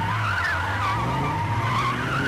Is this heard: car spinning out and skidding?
yes